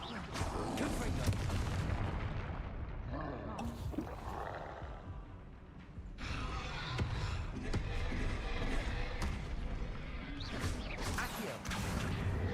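Spell combat in Hogwarts Legacy with Confringo blasting spells: dense, loud booming explosions and crashes follow one another almost continuously, layered with magical effects and game music.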